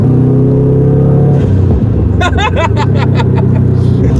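A Subaru WRX STI engine rumbles loudly at high rpm. When the clutch goes in, the exhaust lets out a quick series of sharp, crackling pops, about eight in a row, over the falling drone.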